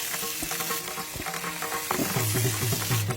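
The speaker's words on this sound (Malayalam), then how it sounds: "അരിഞ്ഞ ഉള്ളിയും പച്ചമുളകും ഇടാം," Sliced shallots and green chillies sauté in hot coconut oil in an uruli pan, a steady close sizzle broken by a few stirring scrapes and clinks.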